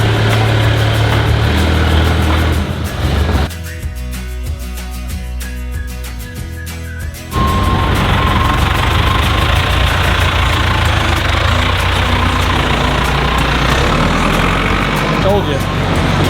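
A utility vehicle's engine idles with a steady low rumble, briefly quieting in the middle before returning, while people talk over it throughout.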